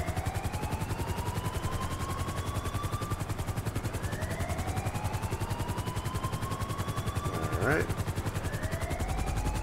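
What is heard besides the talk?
helicopter landing in video game GTA 5, Marine One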